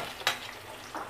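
Onions fry in a pan for a banana flower kuzhambu under a low, steady sizzle. A sharp scrape of a stirring spoon breaks in early, and a softer scrape follows near the end.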